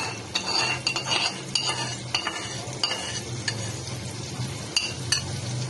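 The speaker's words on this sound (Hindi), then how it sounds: "और इसे अच्छे से भून लेंगे।" Masala with yogurt frying in a pan for dal mash, a steady close sizzle broken by repeated scraping and clinking strokes of a spoon stirring, no talk.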